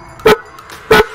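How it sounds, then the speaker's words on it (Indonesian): Two short, loud honks sound from the upgraded horn of a Gesits electric scooter, evenly spaced and close by. "Yang ketiga adalah klakson."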